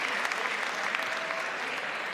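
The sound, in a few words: crowd applauding a padel rally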